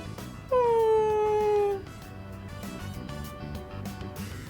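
Koromaru, the dog in Persona 3 Reload, gives one drawn-out whimpering whine of about a second. It rises clearly above soft game background music, which carries on afterward.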